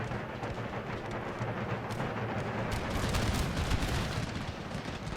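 Cannon and musket fire from East India Company troops in Empire: Total War, a dense rolling barrage of booming shots and crackling volleys, continuous and loud throughout, swelling toward the middle.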